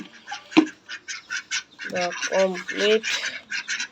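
Hungry adult ducks waiting at feeding time quack in repeated nasal bursts, loud and close, with a sharp knock early on and a person briefly speaking among the calls.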